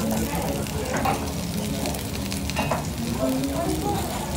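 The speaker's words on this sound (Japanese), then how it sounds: "これ肉汁がジュージュー" Loud, steady sizzling of steak juices on a hot stone fills the clip, a dense crackling hiss of searing, close up and continuous.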